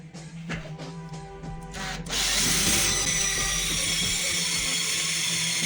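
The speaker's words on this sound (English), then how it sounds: "I drilled down in there a little ways because these are short screws." A power drill with a regular Phillips bit drives short screws into wood: a few short whirring bursts and clicks, then a longer, louder, sustained high whine close by.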